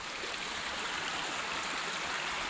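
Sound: mountain stream water from waterfall flowing

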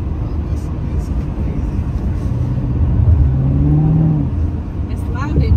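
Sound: supercharged LT4 car engine revving

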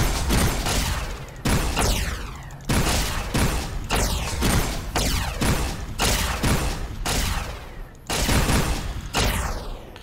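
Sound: rapid-fire weapon shooting, from the video game Fallout New Vegas

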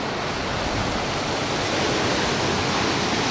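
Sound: sea water crashing against big rocks at Fort Aguada beach

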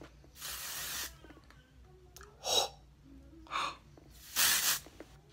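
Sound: spraying texturizing hairspray from a can

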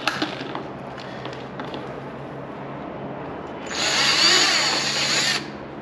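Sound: power drill drilling holes in a car

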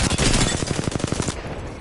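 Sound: gunfire from the video game Apex Legends

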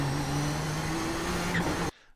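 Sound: iRacing car engine at full throttle, upshifting to third gear, video game

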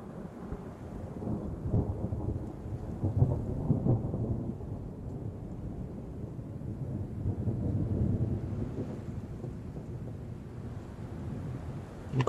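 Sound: thunder in a thunderstorm in the video game Train Sim World 3

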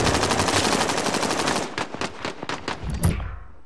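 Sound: gunfire in Call of Duty: Modern Warfare video game

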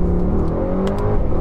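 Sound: Mercedes-AMG GT63s accelerating hard from standstill

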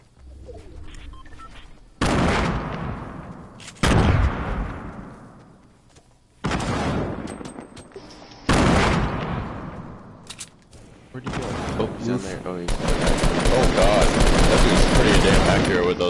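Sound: gunfire from a shooter video game

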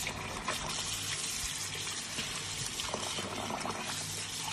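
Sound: water running while washing basmati rice

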